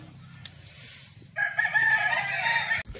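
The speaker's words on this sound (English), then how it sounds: "The chicken!" A rooster crows on a farm, close and loud: one drawn-out call that follows faint clucking and background noise.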